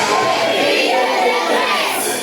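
A crowd of young voices shouts loudly together at a night gathering, a dense, continuous wall of cries and yelling that holds steady throughout.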